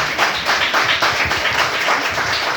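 Audience at a meeting giving a hearty round of applause, steady dense clapping filling the room for a few seconds.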